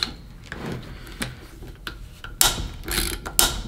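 Ratcheting screwdriver in double drive mode, rocked back and forth: bursts of sharp, close mechanical clicking from the pawl, irregular at first, then louder rapid ratchet runs near the end.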